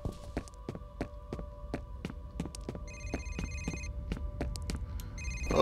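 In the shooter F.E.A.R., a telephone rings in short bursts partway through, over a quiet room filled with scattered taps and footsteps.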